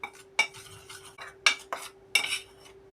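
A spoon stirs cocoa and flour in a bowl for potato-shaped poğaça dough, sharp metallic scrapes and clinks coming in quick irregular bursts, close and clear with no voices.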